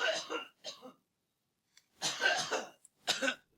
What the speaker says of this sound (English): I'm gonna cough for a while.